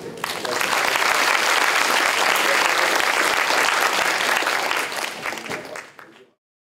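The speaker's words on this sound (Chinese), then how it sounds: "那我们现在是不是以热烈掌声欢迎 Professor Herdegen 为我们做" An audience gives a warm round of applause to welcome Professor Matthias Herdegen before his lecture on international law. Dense, loud clapping rises quickly, holds steady, then tapers off and stops.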